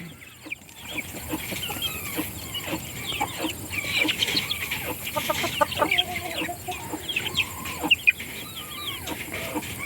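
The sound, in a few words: chickens from two flocks together in a mobile run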